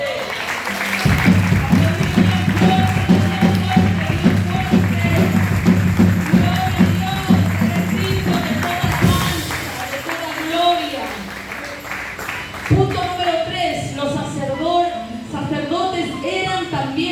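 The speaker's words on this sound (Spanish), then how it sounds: "¿Cuántos aplauden al Señor?" Congregation applauding during an evening church service, loud crowded clapping and cheering mixed with music and voices, the clapping strongest in the first half before fading into speech and background sound.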